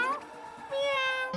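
A cat meows in a drawn-out, wavering cry, fairly loud and close, with a short second call at the end and no talk over it.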